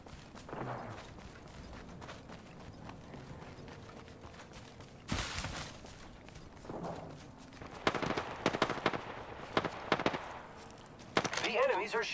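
Enemy gunfire in Apex Legends comes in scattered bursts and single shots of varying distance, some faint and some close, over steady game ambience, with a voice talking now and then.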